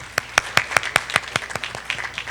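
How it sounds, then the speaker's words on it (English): An audience at a debate finals ceremony claps in brisk, rhythmic bursts, close and fairly loud over a brief stretch. "Continue to clap."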